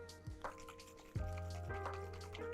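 Olive oil and water poured together with salt for a focaccia topping emulsion, giving close, small liquid drips and a gurgling fill that settles into a steady trickle.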